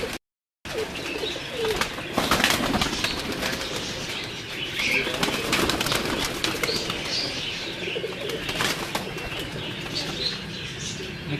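Jaler breed pigeons in a loft, wings flapping in repeated bursts and birds cooing up close, a busy dense mix of flutter and soft calls after a brief silent start.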